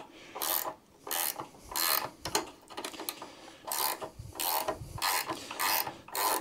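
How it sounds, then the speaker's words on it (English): A ratchet wrench works a stud out of a Hayter 41 variable-drive lawn mower, its clicking bursts coming in repeated strokes with short pauses between, close and moderately loud, with no voices. "Let me try and put a ratchet on it."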